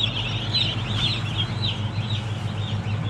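Chicks being weighed and carried on a poultry farm cheep continuously in a dense, high chorus, with a steady low hum of farm machinery underneath and no talking.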